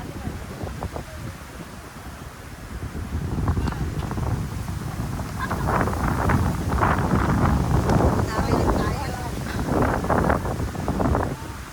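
Strong outdoor wind buffets the microphone in loud, uneven gusts, with a low rumble and occasional voices underneath.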